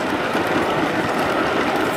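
A large freight train rolls past close by, a steady, dense rumble of wagons and wheels on the rails with no voices.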